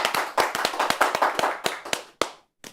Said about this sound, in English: a huge round of applause for Dinesh Karthik